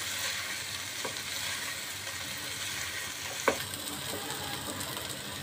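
Chicken with crushed red chilli frying in a pan, a steady close sizzle throughout with faint stirring and a single sharp clink partway.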